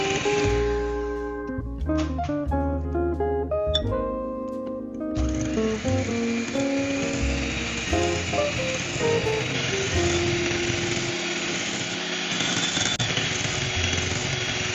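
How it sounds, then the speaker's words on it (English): An electric beater whisks egg whites for Japanese fluffy pancakes, a loud, steady, buzzing motor whir that holds without a break once it gets going, after a brief musical opening. "Slowly increase the beater speed and whisk well"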